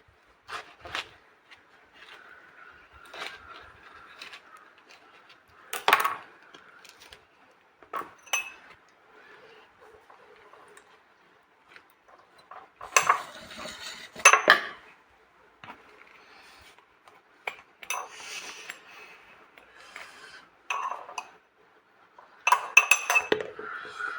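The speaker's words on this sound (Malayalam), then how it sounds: "ഞാൻ രണ്ട് ഫാഷൻ ഫ്രൂട്ടാണ് എടുത്ത് വെച്ചേക്കുന്നത് ഇതും കൂടെ കട്ട് ചെയ്ത്" A knife cuts through passion fruit on a hard surface, giving scattered sharp taps and clicks with brief scraping in between, close and intermittent against near silence, with no talk.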